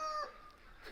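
Farmyard chickens cluck in a brief, fairly faint burst with a bird call near the start, set against a light wind.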